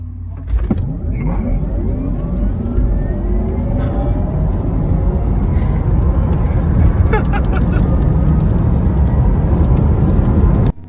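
A Rimac C_Two electric hypercar accelerates hard down a quarter-mile strip, its motor whine rising steadily in pitch over a constant loud roar of tyres and wind, lasting about ten seconds before cutting off abruptly.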